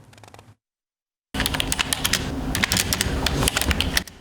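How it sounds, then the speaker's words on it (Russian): Rapid computer keyboard typing, close and continuous, with dense overlapping key clicks after a brief silence. "Стук клавиатуры не стихает здесь в течение всего рабочего дня."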